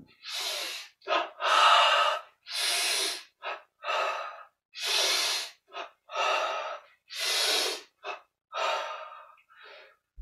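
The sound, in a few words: breathing in during a guided meditation exercise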